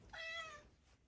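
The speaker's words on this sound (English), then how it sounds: "that was my cat" A house cat named Mitty lets out a single short, faint meow indoors, rising then trailing off, heard alone against quiet room noise.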